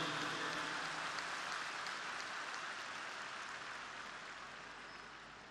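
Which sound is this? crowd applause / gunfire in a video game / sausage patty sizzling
crowd applause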